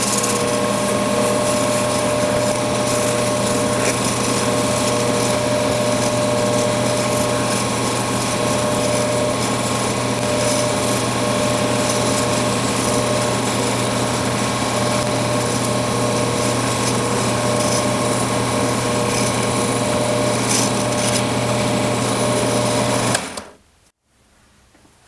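Steady, loud whine of a lathe spinning an elk antler pen blank during wet sanding through fine grits, a continuous mechanical hum with no talk, cutting off abruptly near the end into near silence.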